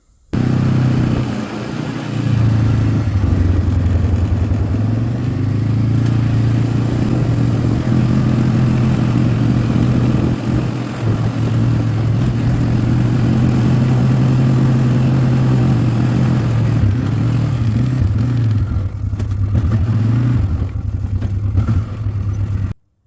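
An ATV engine runs steadily and loud for the whole stretch, a low mid-pitched drone with some clatter, held close with little change in speed, as it drags a plow up a slope.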